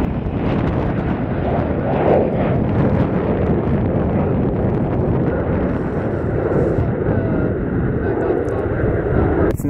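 A Learjet taking off at Columbus Glenn airport, a loud, sustained jet roar blended with heavy wind buffeting on the microphone, holding steady throughout.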